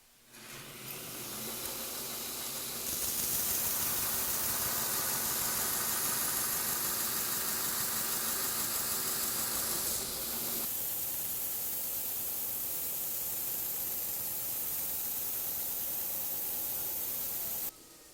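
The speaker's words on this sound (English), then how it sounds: "then I'm going to start grinding the master bevel" A belt grinder rough-grinds the master bevel on a custom knife blade, a loud continuous abrasive hiss and motor whir held steady for most of the stretch, with the pitch shifting as pressure changes, then cutting off near the end.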